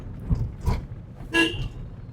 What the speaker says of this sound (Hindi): ब्लाइंड जंक्शन में हमेशा हॉर्न का इस्तेमाल करिए।